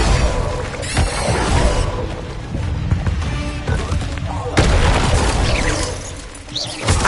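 Confringo and Incendio spell blasts in the Hogwarts Legacy video game, with loud fiery bursts, crashes and whooshes layered over dense combat noise, continuing almost without a break.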